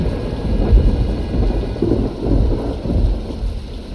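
Thunderstorm with steady rain in the Fernbus Coach Simulator driving game, a continuous low rumble of thunder rolling under hissing rainfall at a constant loud level, with no voices.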